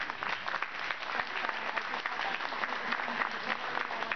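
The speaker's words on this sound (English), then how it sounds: "I would like a big round of applause for the people that have been working" Dinner guests at a harm reduction dinner applaud the volunteers, a sustained, fairly faint patter of many hands clapping at an even level throughout.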